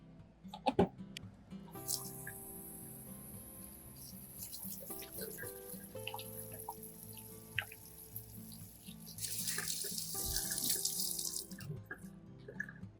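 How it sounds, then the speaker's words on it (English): Tap water runs and splashes as a plastic bottle is washed with dish soap in a sink, with knocks and handling clatter, growing louder and hissier toward the end. "Don't forget to wash the bottle thoroughly with dish soap to remove any residue"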